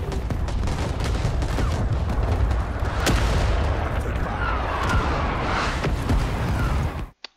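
Artillery bombardment in Rising Storm 2 at Cu Chi: a dense, sustained barrage of rumbling blasts and crackling gunfire with a few sharper bangs, loud and continuous before cutting off abruptly near the end.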